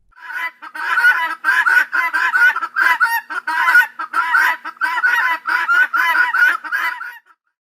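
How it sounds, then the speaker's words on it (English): Guinea fowl call repeatedly in a rapid, harsh, rhythmic cackling series, loud and close, continuing steadily for several seconds before stopping. "Guinea fowl,"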